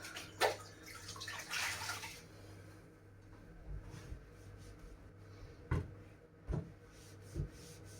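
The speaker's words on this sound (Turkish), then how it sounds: "ama mecburen durulama yapacağız" Water sloshing and running during a household rinse, needed after wiping with a cloth and vinegar water, gushes for about two seconds, then gives way to a few soft knocks and clatters in a quiet room.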